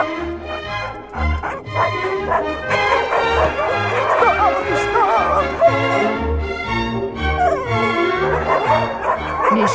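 Several dogs barking and yipping excitedly, overlapping yaps with some whining, fairly close and continuous.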